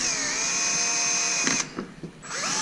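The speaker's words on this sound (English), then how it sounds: "I just drill a little pilot hole in this spot" A power drill with a 1/8 inch bit whines at high speed, then bogs down and stutters briefly as it bores a pilot hole in a plastic Polaris RZR enclosure before spinning back up.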